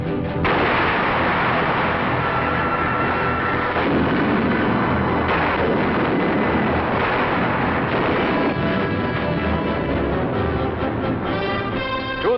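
Artillery cannons fire on a 1952 Korean War front near a bivouac area, heavy booms and thuds repeating amid continuous battlefield rumble in an old, band-limited newsreel recording.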